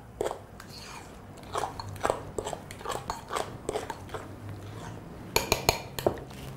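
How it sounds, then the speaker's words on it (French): Sweet potato cake batter being whisked in a bowl just after an egg goes in, giving a string of sharp clicks and clinks that come in uneven bursts, with a quick cluster near the end. "Je rajoute l'autre œuf. Là. Et je remélange. Et je continue à mélanger."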